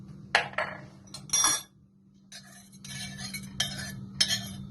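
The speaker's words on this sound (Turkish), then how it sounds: "Tarçının karışana kadar karıştıracağım." A spoon scrapes and clinks around the inside of a metal pot, stirring tea with cinnamon and cloves in several bursts, with a low steady hum underneath and no talking.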